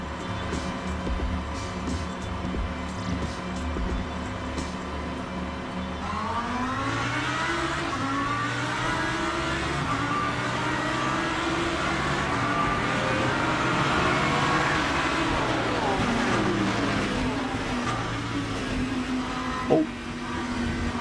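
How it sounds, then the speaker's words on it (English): A Lamborghini GT3 race car in Le Mans Ultimate idles with a steady drone, then revs up into a loud, sustained engine roar that rises and falls in pitch as it accelerates and shifts. "we're in the Lambo today"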